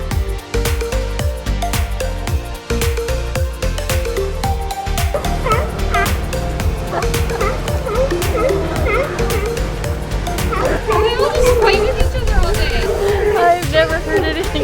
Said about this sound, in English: The dinghy dog.